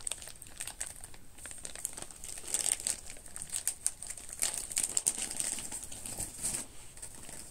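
Paper crinkling and rustling as a birthday gift package of sake lees is unwrapped, with dense close crackles that rise and fall in bursts over several seconds and no talk.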